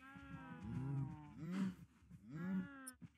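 Cows mooing in the modded video game Minecraft Create, three drawn-out lowing calls in a row, faint and alone with no speech.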